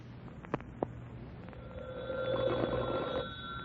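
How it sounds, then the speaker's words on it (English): A telephone rings in an office setting in a 1940s radio drama. A couple of sharp clicks come first, then a clear, steady, high bell-like ring sustains for over a second over a quiet background. "when the telephone rang"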